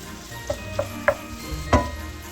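Ground beef, about 250 grams, sizzles as it goes into a hot pan, a low steady frying hiss broken by a few soft utensil taps and stirring sounds, close and moderately loud with no talking.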